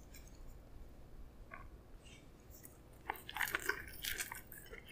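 Biting into a Cajun Shanghai snack wrap from McDonald's, a quiet crunch of the wrap's crisp shell followed by a few chewing sounds, close to the microphone with no talking.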